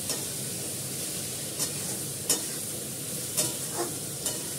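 Curry frying in oil while being stirred, a continuous sizzle with several sharp scrapes of the spoon against the pan, close and fairly loud, no speech.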